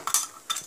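A spoon scraping and clinking twice against a pan while stirring masala with ginger paste and garam masala, two quick close metallic strokes in an otherwise quiet kitchen.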